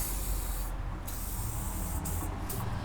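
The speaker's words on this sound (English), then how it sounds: "now let's spray a little WD-40 on these" A steady aerosol spray of WD-40 lubricant onto rusty 4Runner suspension parts hisses for a few seconds, with brief pauses and bursts of spraying, close to the microphone and without any talking.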